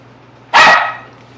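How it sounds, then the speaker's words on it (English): A single loud, sharp bark from a male dog in a home kitchen, close to the microphone and abrupt against a quiet hum, fading quickly with no talk around it. "My boy dog's named Cookie and he's a very high maintenance and mouthy"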